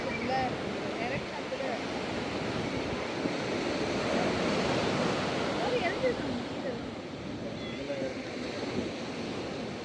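Surf washing onto a beach, a steady broadband rush of breaking waves with wind noise across the microphone, continuous and fairly loud, with faint voices in the background.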